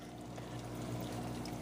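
Water from a saltwater aquarium setup flows steadily through a bag of carbon, a continuous close pouring and trickling wash with no voices.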